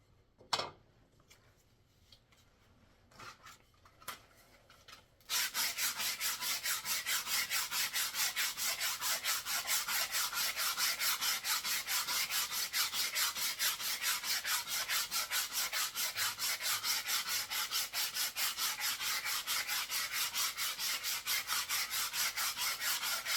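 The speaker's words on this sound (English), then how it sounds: "to spin the flute as I am sanding like this" A wooden flute spins while being sanded, a few scattered scrapes and taps at first, then after about five seconds a loud, continuous rhythmic rasping friction that runs close and unbroken to the end.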